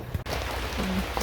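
Steady rain falls outside during a fall camping stay in Yosemite, a continuous soft hiss of drops with no voices.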